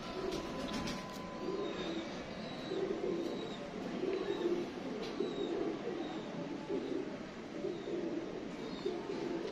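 Pigeons, Tipu breeder birds, coo in soft repeated low murmurs that continue steadily under a constant background hum, close by and moderately quiet, with no talk.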